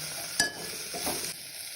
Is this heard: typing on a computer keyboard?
no